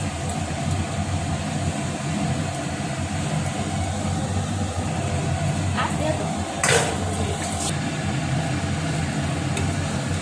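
Palm fritters (taler bora) fry in white oil, giving off a constant sizzling hiss. A brief clatter of utensils cuts in partway through, with some talking in the background.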